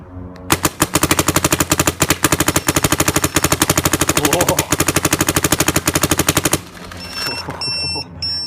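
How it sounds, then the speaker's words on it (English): A Dye M2 paintball marker with a Rotor2 loader and throttle bottle fires in PSP ramp mode, a loud rapid burst of evenly spaced shots sustained for about six seconds before cutting off, leaving faint electronic beeps and low background noise. "it's just a good way to get the gun on an easy machine gun mode."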